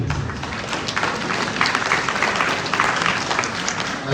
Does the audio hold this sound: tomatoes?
no